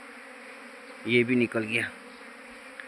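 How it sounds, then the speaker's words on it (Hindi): A honeybee swarm pours out of hive boxes, its steady droning buzz running through the whole stretch, while someone speaks briefly over it. "बहुत ज़्यादा मधुमक्खियाँ होगी इस बार, बहुत सारे स्वार्म निकलेंगे"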